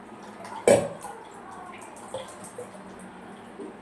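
Liquid is strained through a kitchen strainer into a vessel, starting with a sharp splash followed by faint, scattered drips and trickles over a quiet background.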